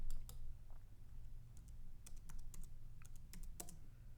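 A command is typed on a computer keyboard, a quiet run of uneven key clicks at close range over a low background hum, with no talking.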